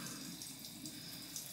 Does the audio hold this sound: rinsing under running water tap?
yes